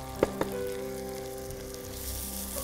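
Fried onions sizzling in a pan as tomato paste goes in, two sharp knocks at the start followed by a steady, moderate frying hiss with a faint low hum beneath, no speech.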